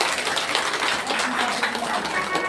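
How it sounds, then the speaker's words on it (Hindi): Audience applause at a Bhagavat katha gathering in Sambhaji Nagar, Andheri East, Mumbai: a steady, dense wash of many hands clapping throughout, moderately loud with no clear gaps. "अब तालियां बजाइए।"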